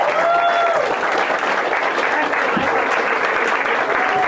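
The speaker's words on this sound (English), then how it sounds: "Give it up for Rob White, everybody" A comedy club audience claps and cheers steadily as one stand-up comedian leaves the stage, with a host's voice faintly over the sustained applause.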